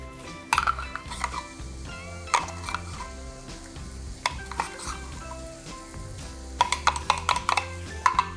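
Vegetables and tomato paste being stirred in a pan, with soft sizzling under scraping and clinking utensil strokes that come in bursts, loudest near the start and end, over a low background of music.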